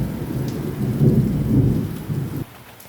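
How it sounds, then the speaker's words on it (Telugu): Thunder rumbling during monsoon rain, a loud close roll with swelling peaks over steady rainfall that drops away abruptly near the end. "చూడండి ఎట్లా ఉరుముతుందో"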